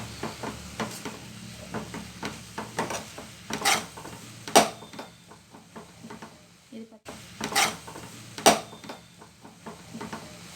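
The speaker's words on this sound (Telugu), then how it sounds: "ఇది పచ్చివాసన పోయేంత వరకు ఫస్ట్ వేయించుకోవాలి." A grated root vegetable fries in a pan for halwa, stirred with a spoon that scrapes and clinks against the metal in repeated strokes over a soft sizzle, with a few louder knocks.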